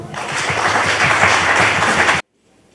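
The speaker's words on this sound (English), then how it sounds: "We can clap for them." Audience at a primary school climate change project competition in Makindye Ssabagabo claps for student presenters: dense, steady applause lasting about two seconds, then stopping abruptly into silence.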